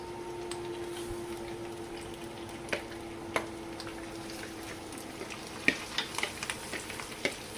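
Food being mixed in a pan, with a low steady sizzle and sparse scraping clicks of utensils that grow more frequent toward the end; no talk.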